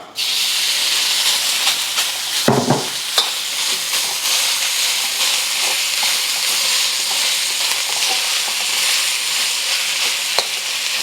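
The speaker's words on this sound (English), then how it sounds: "Once you see a wisp of smoke, your wok is hot enough, add 1 tablespoon of oil. And our meat is going in." Beef strips land in a smoking hot, lightly oiled wok and sear with a loud, continuous frying hiss, a brief clatter near the start before the steady sizzle fills the rest.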